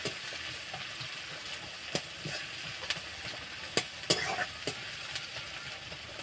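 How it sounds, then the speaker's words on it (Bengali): Onions sizzle steadily in a hot pan on a home stove while a metal spatula scrapes and stirs them, giving occasional sharp clicks over the constant frying hiss. "এবার খুন্তি দিয়ে নাড়াচাড়া করব।"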